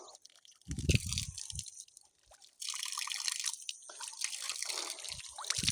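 Water splashes and drips as feet are washed outside a temple: a few heavy splashes early, then a steady hissing pour and trickle.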